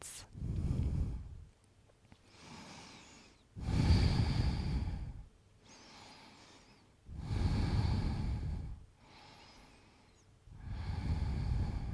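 Slow, deep, audible breaths during a yoga Sphinx pose, with long inhales and exhales alternating in an even rhythm, close and clear with quiet pauses between them.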